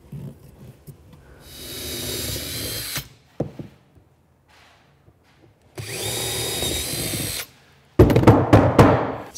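Screws driven into a car amplifier mounting plate during an Audi A6 (4G) Bose amplifier swap, two loud whirring bursts of a power screwdriver separated by quiet pauses with soft handling clicks, ending in a rougher buzzing run.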